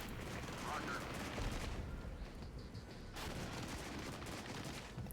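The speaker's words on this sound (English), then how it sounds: "I'm going to stop that artillery bombardment for now" Rumbling artillery bombardment in the wartime strategy game Regiments, a steady roar of distant blasts and gunfire rolling on without pause, loud and dense across the whole stretch.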